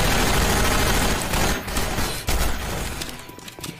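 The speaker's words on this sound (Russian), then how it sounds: "здесь громкие выстрелы" Heavy, sustained gunfire in the video game Hunt Down The Freeman rattles loud and close, a continuous barrage with sharp impacts that eases slightly toward the end, no talking over it.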